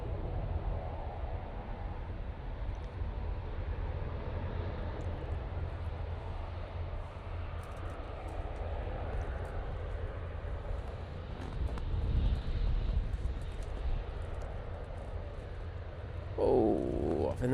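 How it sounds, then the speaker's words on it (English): An airplane landing at Manchester Airport gives a steady distant engine roar with a broad low rumble, swelling slightly near the end, heard faintly from a spotting position. "able to correct it and get that plane down lovely"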